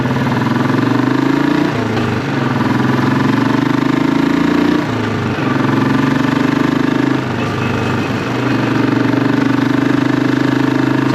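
A Royal Enfield Classic 500 motorcycle with an aftermarket Hitchcock's Goldstar exhaust idles with a deep, throaty rumble, louder than stock, with a few quick throttle blips that rise and settle back down.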